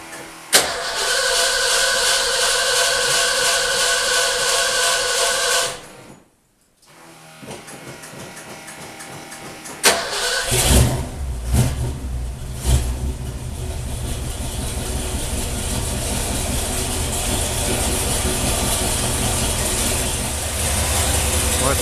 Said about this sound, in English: So let's turn the key, let's pump the pedal, let's get this big block back to life.